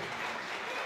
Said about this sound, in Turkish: çok kocaman bir alkış